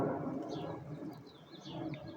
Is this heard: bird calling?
yes